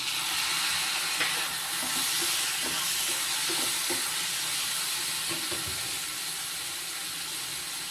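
Steady broadband hiss of tomatoes sizzling in a hot pan with sautéed onions for a peas and potato kurma, with occasional soft pops and clinks, no voices.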